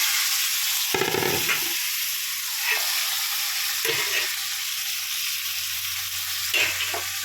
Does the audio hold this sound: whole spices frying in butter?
yes